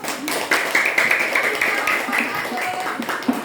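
Children in a classroom clap their hands in a loose, uneven patter of claps, moderately loud and close, with some voices mixed in.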